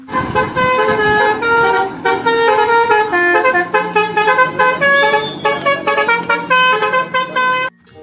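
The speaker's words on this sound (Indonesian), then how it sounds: "ada mobil bus telolet" A toy telolet bus horn plays a bright, melodic string of honking tones for about eight seconds, loud and close, with rhythmic note changes before cutting off abruptly.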